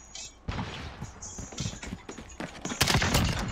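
A submachine gun fires in rapid bursts in Call of Duty gameplay, a quick crackle of close, sharp shots that grows louder and denser toward the end.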